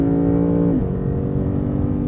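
A 2015 Lexus RC F V8 revs hard, its harmonic engine note holding steady and then dropping as the revs fall, loud and close with no talk.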